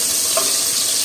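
Pakbet being stirred in a cooking pan, with a steady bright sizzle of frying throughout and a faint scrape of the utensil partway through, close and continuous with no voices.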